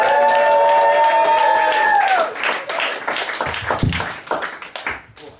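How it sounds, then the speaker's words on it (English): A live spoken word audience in London greets a poet with applause and cheering. Sustained clapping rises after a tonal opening, then thins out and trails off near the end. "Can we give him a big round of applause?"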